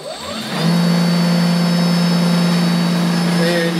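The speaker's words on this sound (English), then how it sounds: "you're going to hear it start, and the brushless motor will start running." A Ryobi 40-volt brushless cordless electric snow blower motor starts up in a shop, rising quickly to a steady, loud whirring hum with a tonal whine that holds to the end.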